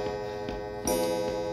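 A pendulum clock in the Resident Evil 7 video game ticks steadily about twice a second, each tick crisp and close over a low droning game ambience with no voices.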